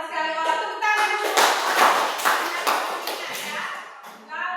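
An audience in a teaching session breaks into a short burst of hand clapping lasting about three seconds, with a voice speaking just before and after it.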